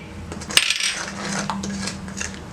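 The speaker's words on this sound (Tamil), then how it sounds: "கடுகும் ஜீரகமும் போட்டுடலாம்." Mustard seeds and cumin dropped into a hot pan, a sharp scattering clatter and crackle up close followed by a settling sizzle and faint metallic ticks.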